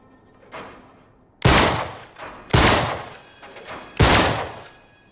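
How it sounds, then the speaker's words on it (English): Gunshots at a lock in Uncharted 3, three loud, close, sharp blasts spaced about a second apart, each with a short ringing tail, after a fainter thump. "I'll shoot the lock."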